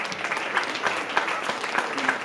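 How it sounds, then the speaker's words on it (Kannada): An audience claps steadily at an award ceremony honoring foundation trustees, a continuous moderate patter of many hands with a few sharper claps standing out. "ಅವರಿಗೊಂದು ಜೋರಾದ ಚಪ್ಪಾಳೆಯನ್ನ ಕೊಡೋಣ"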